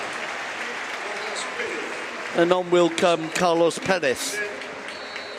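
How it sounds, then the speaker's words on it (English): A stadium crowd at a Barcelona versus Mallorca football match applauding a Griezmann substitution as a steady, distant wash of clapping under a commentator's voice. "Griezmann getting the applause."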